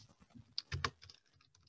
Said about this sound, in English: We are going to type the word Friday.